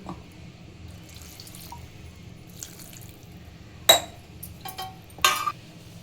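Water is poured into a mixer jar for chutney, heard as a few brief splashing pours and trickles against low kitchen background, close up with no speech.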